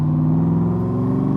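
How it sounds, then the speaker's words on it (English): A 1965 Shelby Cobra Backdraft idles close by, its exhaust giving a deep, steady, throbbing V8 rumble with an even pulsing beat over a brief stretch, with no voices. "the exhaust sounds amazing"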